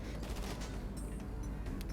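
Dense gunfire from a GTA 5 Online shootout, a steady barrage of shots and impacts over a loud low rumble of game noise, continuous throughout without a clear gap.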